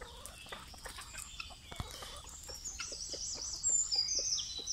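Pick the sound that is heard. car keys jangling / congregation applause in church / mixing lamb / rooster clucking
rooster clucking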